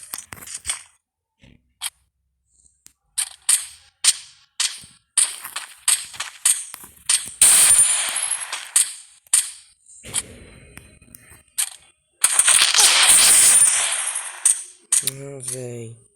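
Gunfire in a video game, heard as many sharp, close single shots spaced irregularly, with a couple of longer, louder noisy bursts and a brief tonal sound at the end.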